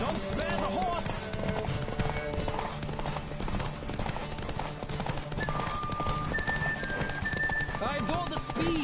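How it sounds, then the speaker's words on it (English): A horse gallops in a PS4 video game: steady close hoofbeats drum without pause, with a possible whinny and muffled voices mixed into the busy game sound. "Don't spare the horse."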